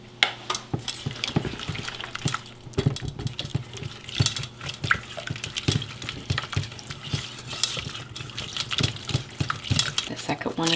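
Room-temperature eggs are stirred into a thick keto brownie batter, and a utensil scrapes and taps against the bowl in quick, irregular strokes while a person talks now and then.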